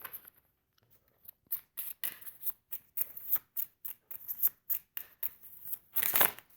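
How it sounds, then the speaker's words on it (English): Cards from a Lenormand deck are handled, shuffled and picked, giving a series of sharp, close papery snaps and flicks in irregular bursts, with a louder riffle near the end. "I'm going to pick some cards from the Lenormand deck."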